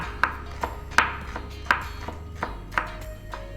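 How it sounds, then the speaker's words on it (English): A knife julienning and slicing fresh ingredients on a cutting board for Vietnamese lemongrass chicken. Crisp, evenly spaced chops land about one per second, close and clear, with no talking. "It's a recipe that is going to improve your knife skills. Lots of little julienning and slicing."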